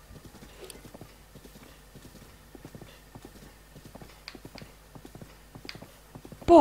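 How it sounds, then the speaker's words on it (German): Horse hooves gallop in Zelda Breath of the Wild, a steady rapid clip-clop that runs on without a break at moderate loudness, ending in a sudden loud burst. "Renn, mein Pferd, renn."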